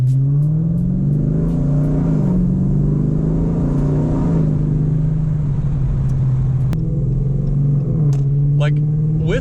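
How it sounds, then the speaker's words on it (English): A Dodge Charger R/T fitted with a Circle D torque converter accelerates under light throttle, its engine giving a steady, close, loud rumbling drone that builds gently and holds for the whole stretch, with a few brief clicks and ticks over it. "I'm gonna give it a little bit of gas here."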